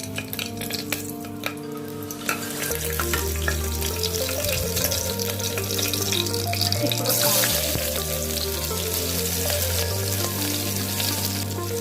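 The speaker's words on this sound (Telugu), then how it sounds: "కొంచెం ఆయిల్ హీట్ ఎక్కిన తర్వాత ఫస్ట్ మనం 2 చిల్లీస్ వేసుకుంటున్నాం." Two green chillies dropped into hot oil in a pan for a Godavari-style veg pulao, giving a steady, loud close sizzle with a low hum running underneath.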